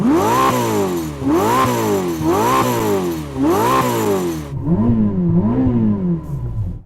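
A Ferrari SF90 revs during a sound check: four sharp, rising engine blips in quick rhythm, loud and close, then a softer, lower rev once the roar cuts away.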